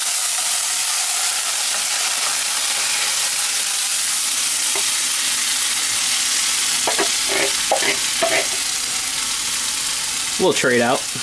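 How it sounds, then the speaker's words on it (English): Tomatoes go into a pan of sizzling sauce and are stirred, giving a constant close frying hiss with intermittent scraping stir sounds and a brief spoken phrase near the end. "Now we're adding the tomato."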